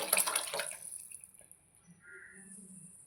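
Tamarind and tomato water poured into a pan of rasam, a brief splashing liquid pour at the start that fades into quiet kitchen background.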